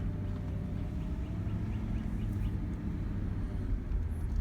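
A personal car drives a rural mail route, its engine and road noise forming a steady, even low rumble heard from inside the cabin with no speech.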